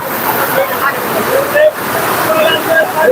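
Heavy rain pouring down at a riverside market, a dense, roaring wash of water close by that fills the whole scene while people talk over it.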